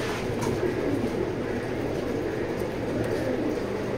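Racing pigeons in a loft coo and shuffle in a dense, continuous hum of birds, steady and fairly loud throughout.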